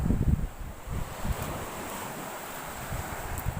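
Strong sea waves surge and wash against a shore while gusty wind buffets the microphone, a loud, continuous roar with heavier rumbling bursts and no voices.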